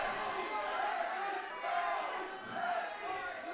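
A large crowd at a wrestling gala roars and shouts in a steady, dense wash of voices that swells and dips, with no single speaker standing out.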